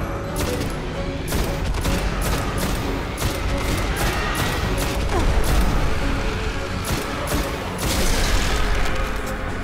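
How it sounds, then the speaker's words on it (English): Dense, loud bursts of rocket explosions and gunfire in the sci-fi shooter Destiny, continuous booming and crackling battle noise throughout. "Oh shit. Rockets."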